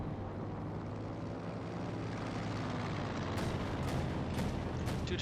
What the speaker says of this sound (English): They're firing away at the aircraft.